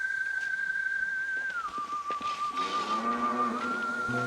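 A cartoon sound effect of a whistling crater: a sustained clear whistle holds one pitch, glides down to a lower tone, then rises again, with faint background effects underneath.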